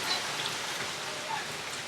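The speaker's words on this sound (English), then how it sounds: "we're actually starting to see a lot of the rain and wind" Hurricane Irma's rain and wind roar as a steady, dense hiss of falling rain and gusts, loud and continuous throughout with no pauses.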